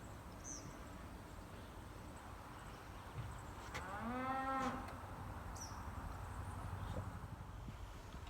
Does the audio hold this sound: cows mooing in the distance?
yes